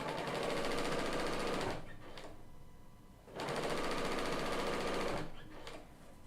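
A Bernina 990 embroidery machine stitching Riley Blake Little Red Riding Hood rag dolls in the hoop, loud, fast rhythmic needle hammering in two long bursts separated by a quieter pause of motor whir and clicks.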